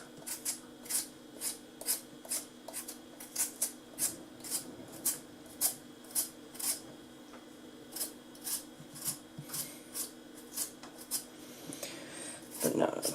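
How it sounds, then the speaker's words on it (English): Potatoes being peeled for chips, a steady run of short scraping strokes close by in a quiet kitchen, about two per second, with a louder clatter at the very end. "now I am going to be peeling these potatoes, as I'm going to be making chips."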